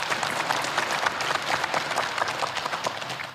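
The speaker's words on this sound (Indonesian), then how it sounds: "tepuk tangan buat Regu A" Steady, dense applause from an audience fills the hall for a team at a regional debate competition final, sustained and even throughout with no talking over it.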